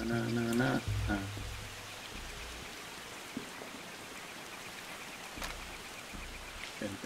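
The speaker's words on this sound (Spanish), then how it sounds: "Empezó a llover." Steady rain falls in the Far Cry 2 game world, a soft continuous hiss of drops spread evenly throughout, with a low engine-like hum and faint musical tones at the start.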